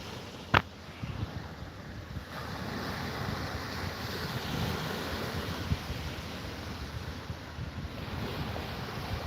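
Ocean waves washing onto the shore in a steady broad rush, mixed with wind buffeting the microphone, after a sharp knock at the start.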